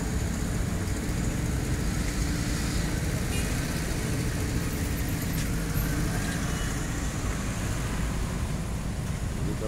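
Steady broadband traffic rumble at a toll gate in Padalarang, with idling road vehicles including an MGI bus heading to Bandung, constant and fairly loud throughout with no clear individual events.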